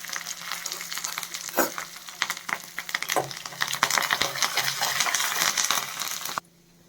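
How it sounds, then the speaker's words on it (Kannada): Urad dal, cumin, curry leaves and a chilli frying as a tempering for hotel-style mint chutney, a steady crackling sizzle with spoon scrapes and taps that builds louder before stopping abruptly. "ಇದು ಜೀರಿಗೆ, ಕರಿಬೇವಿನ ಸೊಪ್ಪು, ಮತ್ತು ಒಂದು ಮೆಣಸಿನ್ಕಾಯಿ ಹಾಕ್ಕೊಂಡು ಇದನ್ನೆಲ್ಲ ಸ್ವಲ್ಪ ಫ್ರೈ ಮಾಡ್ಕೋಬೇಕು."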